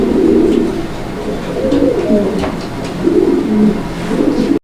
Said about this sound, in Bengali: এখানে আরও এক জোড়া কবুতরের কালেকশন রয়েছে